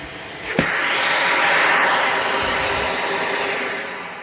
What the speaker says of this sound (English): Let's see, the quick hoover.